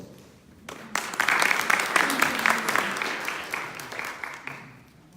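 An audience at a GITEX trade-show presentation breaks into applause for an incoming presenter, clapping rising after a quiet start, holding steady and thinning toward the end.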